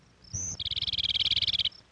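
A lark sparrow gives its territorial song in breeding season: a brief high note, then a rapid, buzzy trill of evenly pulsed notes, loud and close, ending with a soft high note.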